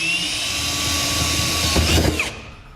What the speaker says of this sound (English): I'm going to drill right in the center of those two lines as my pilot hole